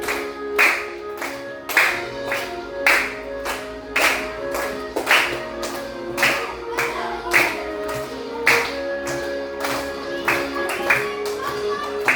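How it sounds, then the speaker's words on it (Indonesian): Children in a classroom clap together in a steady rhythm while singing, during a lesson about angels. The group claps come in regular, close, evenly spaced bursts throughout. "Sama-sama orang tepuk tangan ya."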